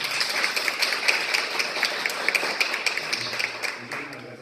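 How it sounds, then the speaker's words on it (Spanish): A conference audience gathered for a talk on Uruguay's national care system breaks into sustained applause. Many hands clap in a dense, even patter that thins slightly toward the end. "Entonces quisiera que den un aplauso,"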